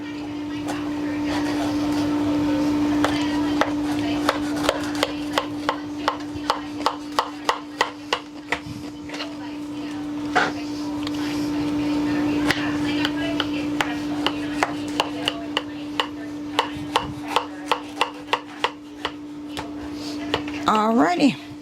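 A knife cuts through an apple pie to divide it into six pieces. Steady repeated chopping knocks sound against the dish over a constant low hum, with a brief scrape at the end.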